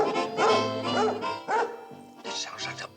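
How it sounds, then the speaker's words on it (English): A happy dog barks in a sitcom scene: several lively, bouncy barks mixed in with overlapping voices and studio sound, close and moderately loud. "This sounds like the bark of a happy dog."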